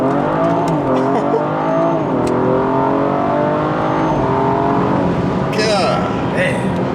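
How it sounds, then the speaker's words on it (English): A BMW F30 340i makes a first gear acceleration pull, the engine loud and close as its pitch climbs in sweeping rises, with people talking over it near the end. "We're doing a first gear pull."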